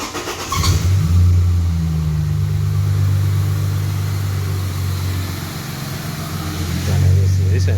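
A Ford AU Falcon fitted with extractors and a high-flow catalytic converter is revved hard, its engine surging up to a loud, sustained roar, easing off, then climbing again near the end.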